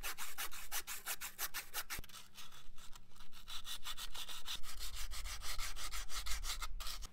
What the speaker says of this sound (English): I'm going to get some sandpaper and I'm going to clean that off